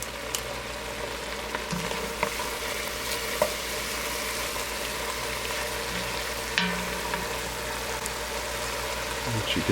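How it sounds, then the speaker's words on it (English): Chili mix stirred into drained meat in a hot pan, a continuous sizzle and fry with soft scraping and occasional clicks of a utensil against the pan. "Add in your chili mix. In there, give that a good stir."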